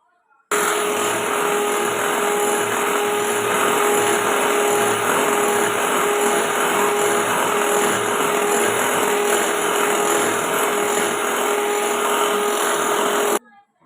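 Eggs being beaten with powdered sugar for a chocolate sponge cake, an electric mixer whirring in a steady, loud, unbroken drone for about thirteen seconds, starting and stopping abruptly, with no talking.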